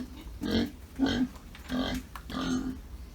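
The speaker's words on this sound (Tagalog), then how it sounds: "So, labas-pasok po yung baboy dito guys sa bahay namin." A pet pig wandering in and out of an unfinished, open house gives four short, close grunts in a loose rhythm, each a low rough snort with pauses between.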